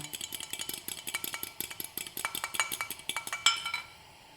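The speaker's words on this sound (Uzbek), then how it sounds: "Tuxum oqini nomiga vilkada aralashtirib ko'pirtirib olamiz." Egg white whisked with a fork in a bowl, a fast steady run of light rhythmic clinks and taps, close and crisp, stopping abruptly near the end.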